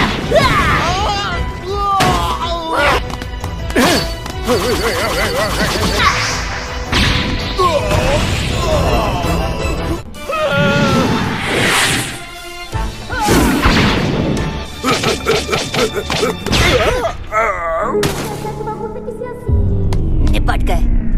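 Punches and smashes in an animated Dragon Ball fight, a dense, loud run of crashing blows, whooshes and heavy impacts with music and shouting voices throughout.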